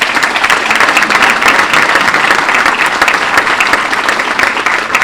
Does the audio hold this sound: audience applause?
yes